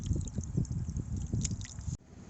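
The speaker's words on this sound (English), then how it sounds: "Now let the water flush out for a little bit." Water gurgles and splashes as it drains from a water heater valve, a close, continuous rushing stream that cuts off abruptly near the end.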